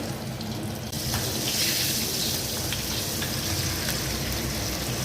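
Fenugreek seeds and small shallots sizzling in hot sesame oil as a tempering for fish kulambu, a loud steady hiss that surges when the shallots go in, close with no talk.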